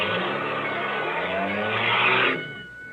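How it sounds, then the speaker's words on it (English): A car engine stalls in a vintage horror radio drama sound effect: a steady, fairly loud motor drone runs for over two seconds, then abruptly dies away, with no voices over it. "You stalled the car."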